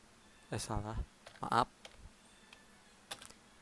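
Keys click sparsely on a computer keyboard while a formula is entered, a few faint separate taps between and under someone speaking.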